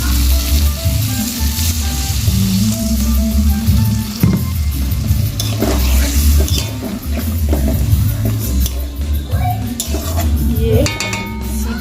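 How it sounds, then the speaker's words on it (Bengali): Vegetables cooking with spices for a pointed gourd and prawn dish sizzle loudly in a hot pan, with water added. A steady frying hiss runs throughout, mixed with occasional clinks of utensils against the pan. "এর মধ্যে আমি সামান্য পরিমাণে একটু জল দিয়ে দেব।"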